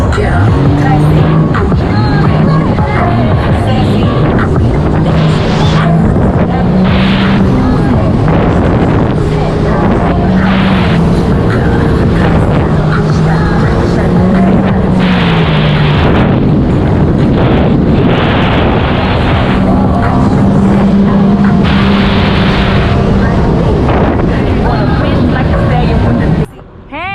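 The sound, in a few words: Sea-Doo GTX300 jet ski riding on water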